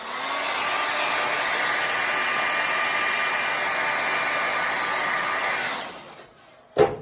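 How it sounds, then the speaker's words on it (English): A blow dryer drying hair runs close and loud in a steady whir for about six seconds, then cuts off, followed by a brief clunk. "So here's where I have to take the blow dryer, and I'm going to zap the back."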